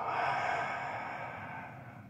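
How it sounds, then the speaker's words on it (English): A deep exhale through the nose during a yoga mobility and stability routine, a close, soft, breathy rush of air that starts strong and slowly fades over about two seconds. "Big in through your nose. Exhale."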